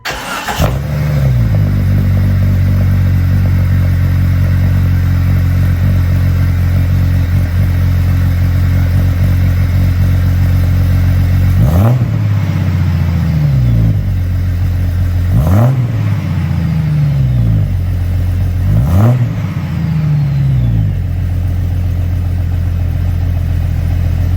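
A Jeep Cherokee XJ engine with a new muffler-shop exhaust idles loudly and steadily with a deep exhaust rumble, revved briefly four times in the second half, each blip rising then settling back.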